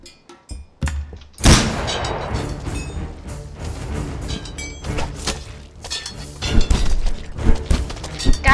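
Flintlock pistol shots and impacts in the video game Paint the Town Red: a sharp, loud blast, then a dense run of crashing hits, smashes and bangs at an uneven rhythm, close and busy throughout.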